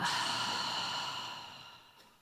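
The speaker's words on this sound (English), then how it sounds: "breathe with me. Breathe in and breathe out." Deep breathing led during a church sermon, a long audible exhale or sigh that fades gradually over a couple of seconds, close and soft with no talking.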